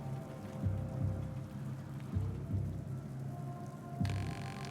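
Steady rain falling in the video game We're All Disposable, a soft even patter with low rumbling thuds pulsing through it, quiet and continuous with no talk.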